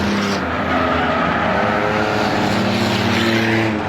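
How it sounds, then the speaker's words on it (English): Three race cars run nose to tail for the lead in the L&W Auto Six Shooter feature on the Star Speedway oval, a loud continuous roar of engines held at speed with no talk over it. "3 cars under a blanket in line, racing it out for the lead in the L&W Auto 6-shooters."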